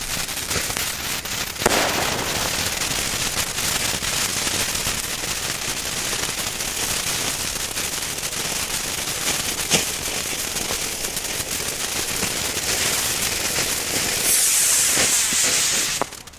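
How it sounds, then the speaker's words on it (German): A Weco Feuerputz firework fountain burning continuously, a dense loud hissing and crackling spray that holds steady, with a few sharper pops and a brighter fizzing surge near the end. "Und als letzte Fontäne haben wir hier den Feuerputz."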